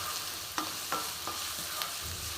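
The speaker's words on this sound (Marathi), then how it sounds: "हा कांदा व्यवस्थित भाजून घ्यायचा." Onion fries in a pan for misal pav, a soft, even sizzle broken by four or five distinct scraping stirs, close up and without talk.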